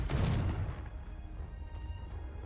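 A Confringo fire spell blasts in Hogwarts Legacy, a loud booming burst up front whose roar decays into a fading rumble and crackle.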